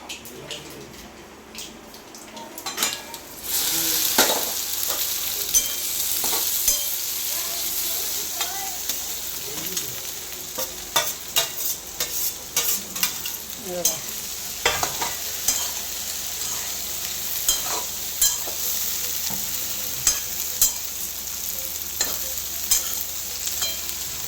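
Okra (bhindi) frying in a pan, a steady close sizzle with occasional stirring scrapes and spatula clinks, while people talk in the background.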